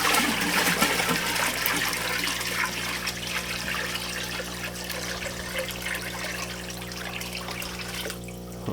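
Water is poured back into a home aquarium tank during a water change, a steady rushing splash and trickle running continuously at close range before tapering off near the end.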